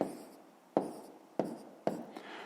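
A pen writes numbers on paper for a grade 5 multiplication exercise, making scratchy strokes in short bursts with about four distinct pen-down taps, close and quiet, with no talking.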